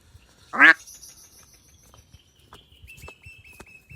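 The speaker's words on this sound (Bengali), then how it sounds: "এটা হচ্ছে চীনা হাঁস।" A Muscovy duck gives one short loud nasal call close by, followed by quiet outdoor ambience with thin distant bird or insect tones and faint ticks.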